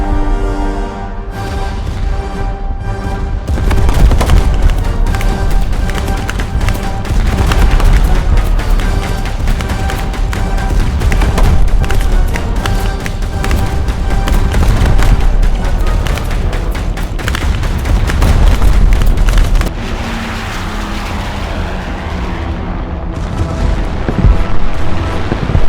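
A torpedo bomber attack in the War Thunder video game brings continuous loud explosions, booms and rattling gunfire throughout, a dense, unbroken barrage with no pause.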